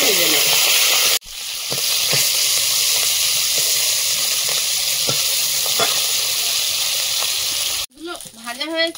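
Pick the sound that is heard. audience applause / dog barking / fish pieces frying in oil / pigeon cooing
fish pieces frying in oil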